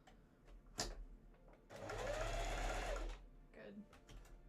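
A sewing machine stitches cosplay shirt fabric in a steady whirring run of about a second and a half, close by, with someone talking quietly before and after.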